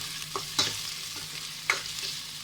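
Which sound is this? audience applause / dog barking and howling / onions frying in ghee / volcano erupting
onions frying in ghee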